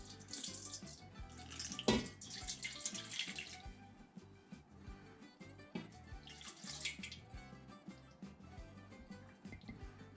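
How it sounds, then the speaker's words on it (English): Water poured into a pot over dolmades, heard as irregular splashing and gurgling bursts that come and go, fairly close and without talk. "we're gonna pour just enough water in here to cover this up"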